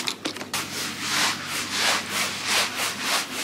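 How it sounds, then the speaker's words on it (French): Kitchen countertop being wiped clean with a degreasing cleaner, a close rhythmic rubbing and scrubbing with repeated strokes, brief clatter at the start, no talk. "Allez, nettoyage du plan de travail."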